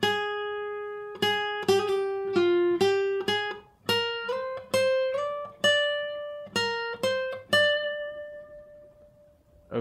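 Played slowly, a Mixolydian electric guitar lead lick moves through pull-offs and hammer-ons, evenly spaced plucked notes each decaying before the next, closing on a lingering held note, with no voices.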